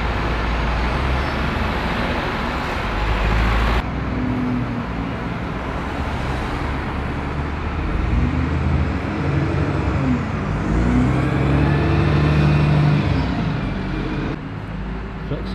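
A new bus heads down a hill in Leamington Spa, its engine whirring past amid steady road traffic, with passing cars rising and falling in level and a brief voice in the background.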